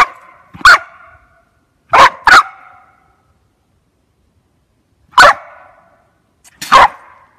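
A Springer spaniel barks loudly and close by in a handful of sharp single and double barks, separated by silent gaps.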